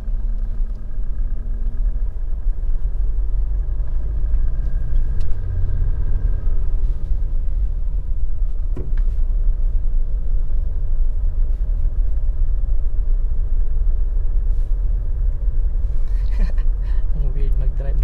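Steady low engine rumble and road noise fill the cabin of a Mitsubishi Montero Sport with a manual clutch, driven barefoot, with a voice talking over the drone throughout.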